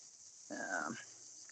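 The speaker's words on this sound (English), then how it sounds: "So you can probably hear the cicadas" A steady high-pitched buzz of cicadas runs throughout at moderate distance, briefly overlapped by a short indistinct voice or sound in the middle.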